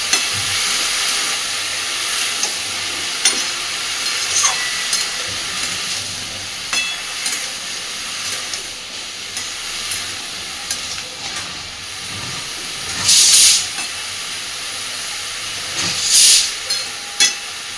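Bottle gourd and shrimp sizzle steadily in a hot pan while being stirred, a continuous frying hiss with occasional scraping clatters and two brief louder bursts near the end, no voices.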